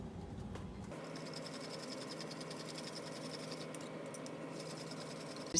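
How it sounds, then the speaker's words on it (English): A pomegranate fizz cocktail shaken hard in a cocktail shaker without ice, giving a steady, continuous rattling slosh that runs evenly for several seconds with no talking. "So excuse me while I go shake this up for like 3 minutes."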